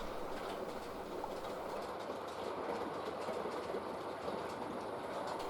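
A model railway goods train, the down pickup, runs on the Little Bytham layout, rumbling steadily with a continuous rolling clatter of wheels on track, close and fairly loud throughout, with no talk.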